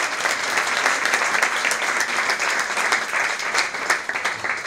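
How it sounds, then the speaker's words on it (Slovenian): Audience applause honoring an award, the gold order of merit: a full, dense, sustained burst of clapping from a large crowd, loud and even with no talking over it. "Pa še en aplavz seveda tudi za to odlikovanje."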